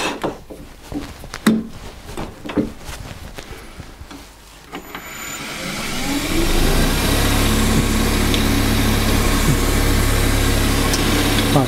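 A wood lathe spins up with a red cedar bowl blank mounted, a steady motor hum rising to a loud continuous whir after quieter shop handling noises and knocks at the start.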